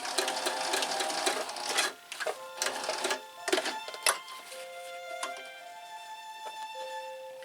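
A sewing machine stitches elastic onto a Santa's helper costume in quick, close bursts, then settles into a quieter, steady whirring run.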